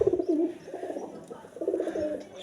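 A young tagged racing pigeon in a loft gives a run of throaty, rolling coos, loud and close, that repeat almost without pause.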